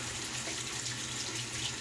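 Warm water runs steadily from a tap while preparing for a shave with cream and a copper bowl, a constant close rushing stream with no voices.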